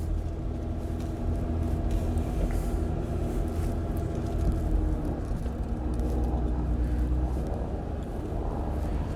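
A car drives slowly around a college campus, giving a steady low engine rumble and road noise from inside the vehicle, constant and moderately loud throughout.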